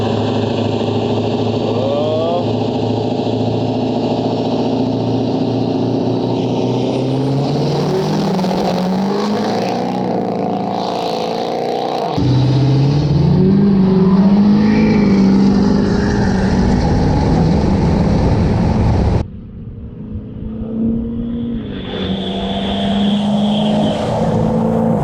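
A Ford 6.7 Powerstroke diesel truck races, its engine droning loud and steady before surging higher under hard acceleration, then dropping off abruptly near the end and building again.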